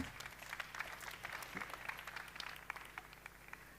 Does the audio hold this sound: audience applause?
yes